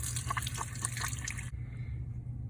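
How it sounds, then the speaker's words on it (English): A lab crucible is rinsed under a running tap, giving a steady splashing stream that cuts off abruptly halfway, leaving only a faint low drip and hum afterward. "Rinse thoroughly with tap water."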